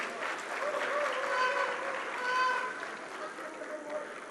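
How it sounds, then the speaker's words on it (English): Audience applause at a political party manifesto launch event, steady crowd clapping throughout with voices and chatter mixed in, fairly loud and sustained. "A round of applause for them, please."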